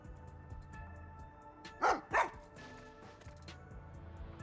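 A dog barks twice in quick succession in the video game Master Detective Archives: Rain Code, two sharp mid-range barks standing out over quiet game background music.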